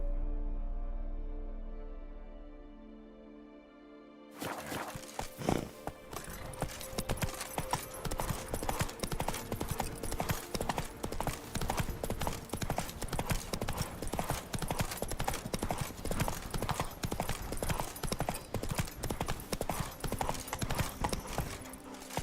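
Roach the horse trotting in The Witcher 3, a steady run of clip-clop hoofbeats that starts abruptly after a few seconds of quiet music and continues near and even for the rest of the stretch.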